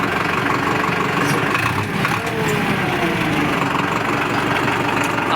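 A Powertrac tractor engine runs steadily at a loud, constant level, its rumble droning on without a break.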